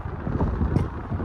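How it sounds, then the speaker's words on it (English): Wind buffets the microphone outdoors in a farmyard, a close, loud, low rumbling gust that fluctuates unevenly through the short stretch. "It's been really windy."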